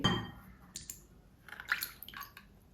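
About 30 ml of soy sauce poured for a Korean spicy pork dish, heard as a few short, close splashy trickles and drips scattered over a quiet background.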